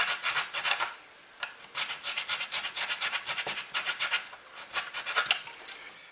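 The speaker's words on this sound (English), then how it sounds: "I can just take a flat file until I get even with the actual port opening." A flat file rasps against a wooden model ship's gun port opening in quick rhythmic strokes, close and fairly loud, with a brief pause around the one-second mark.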